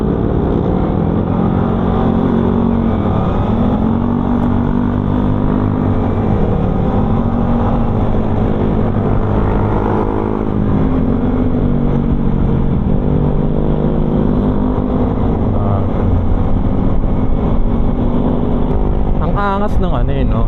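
Motorcycle fitted with an aftermarket exhaust pipe, heard from the rider's position on a ride to work, a loud continuous engine drone whose pitch rises and dips through revving and downshifts, with a rattling burst near the end.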